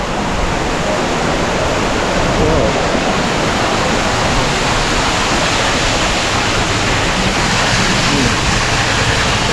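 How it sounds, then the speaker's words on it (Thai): Loud, steady rush of a waterfall just behind a tunnel in Furong ancient town fills the scene continuously, a dense broadband roar with no breaks or voices. "นี้เราผ่านอุโมงน้ำตกแล้วครับ น้ำตกอยู่ข้างหลังเรานะครับ"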